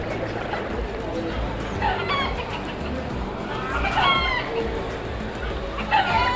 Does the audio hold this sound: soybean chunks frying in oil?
no